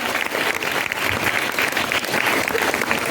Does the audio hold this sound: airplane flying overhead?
no